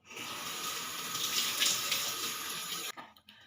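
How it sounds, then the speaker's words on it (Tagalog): Water runs steadily from a tap into a sink during face washing, a close, continuous splashing rush that stops abruptly near the end, leaving a few soft drips and handling sounds. "huhugasan ko muna yung face ko kasi galing pa akong trabaho, medyo madumi pa siya"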